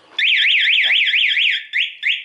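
A loud motorcycle anti-theft alarm on a DTX 250 wails in a rapid rising-and-falling siren pattern, then breaks into two short bursts, sounding close by.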